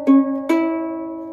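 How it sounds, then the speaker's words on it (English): Two strums ring out on a brand-new, out-of-tune ukulele, a quick pair of chords whose sour, clashing notes sustain and slowly fade, close and clear with no talking. "When you first get your ukulele out of the box,"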